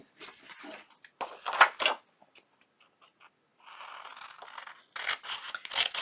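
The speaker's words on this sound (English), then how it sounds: "Now we're going to cut that out." Scissors cut out a paper shape for a junk journal envelope cover, making crisp snipping and rasping strokes in short bursts separated by quiet pauses, close by, with no talking.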